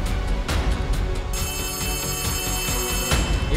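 A telephone ringing in the Poppy Playtime video game, repeating electronic ring tones over a loud, dense game soundscape, with sharp bursts between the rings.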